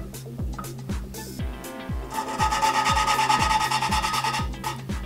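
Steady rhythmic rasping of metal grinding against metal, an engine valve being twisted back and forth against its seat in coarse lapping compound during an engine rebuild, close up with no talking.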